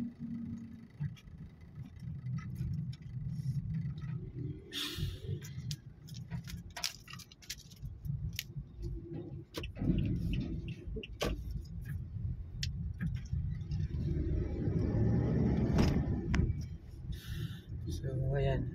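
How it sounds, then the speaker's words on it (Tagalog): Road traffic flows along MacArthur Highway in Bocaue near the public market, with passing vehicles, trucks and buses rumbling continuously at close range while someone talks over it throughout. "Yan, medyo lumuluwag-luwag na ang daloy ng mga sasakyan."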